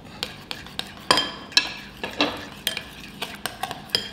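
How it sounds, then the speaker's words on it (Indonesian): A spoon stirs a tempe and egg mixture with spring onion and red chili in a bowl, a close series of sharp clinks and scrapes against the side in a steady, uneven rhythm with no talk. "aduk"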